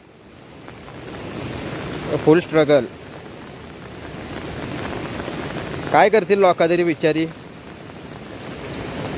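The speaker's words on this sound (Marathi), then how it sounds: "पाण्याचा जोर बघा" Strong floodwater rushes through a village during heavy rain, a steady broadband roar that never lets up while someone speaks briefly over it twice.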